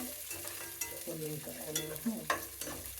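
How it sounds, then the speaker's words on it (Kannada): Dry fruits fry in a pan over a low gas flame for beetroot and carrot halwa, with soft sizzling under repeated scraping stir strokes of a spoon against the pan, close and moderately quiet. "ಗ್ಯಾಸ್ನ ಸ್ವಲ್ಪ ಲೋ ಫ್ಲೇಮ್ ಇಟ್ಕೊಂಡು ಮಾಡ್ಕೊಳ್ಳಿ"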